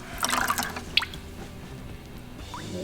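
Clear water from a power steering flush on a 1990 Nissan 300ZX Turbo, trickling and dripping close by, with brief splashy drips near the start and then a steady low wet flow.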